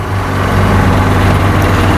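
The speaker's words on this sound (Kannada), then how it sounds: "ನೋಡಿ A84 ರೂಟ್ ಬಸ್ಸು ಹೋಯ್ತು" A loud, steady low engine drone from an A84 route bus passing close by in Alleppey, Kerala, holding a constant rumble for two seconds with no voices.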